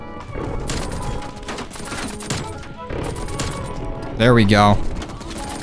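A Nail Gun in the video game Black Ops Cold War fires a rapid burst of sharp, close shots amid a busy game mix, with a voice talking in between.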